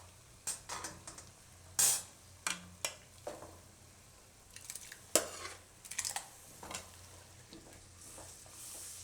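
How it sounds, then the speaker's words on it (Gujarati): A spoon scrapes and knocks against a pan while mixed greens (bhaji) with chopped tomatoes are stirred, irregular close clinks and soft scrapes over a faint background with no speech. "મિક્સ કરી લેવું બધું."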